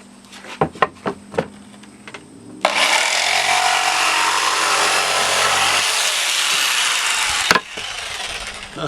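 A Bosch jigsaw makes a short test cut in wood: a few clicks and knocks, then a loud, steady buzzing saw stroke for about five seconds that stops abruptly, followed by more handling clatter.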